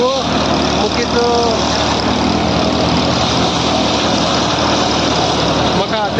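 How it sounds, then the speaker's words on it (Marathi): A Massey Ferguson 8055 tractor engine runs steadily at about 1500 RPM during silage work with maize, a loud continuous drone close by with no pauses. "आपला मेसे फर्ग्युसनचा 8055 हा खूप सुंदर असा ट्रॅक्टर काम करत आहे"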